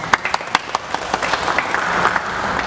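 A crowd of wedding guests claps at a church ceremony, with a handful of sharp, close claps at first that swell into a steady, loud round of applause.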